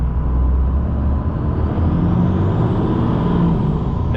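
A mobile mechanic truck with a 12-valve engine and mud tires driving through a winter blizzard, a loud steady low engine drone inside the cab with a brief dip as the gears shift.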